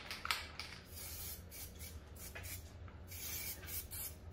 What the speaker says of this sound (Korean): 그 다음에 이제 볼트 알루미늄으로 이제 코팅하는 그 모습을 한번 보여드리도록 할게요.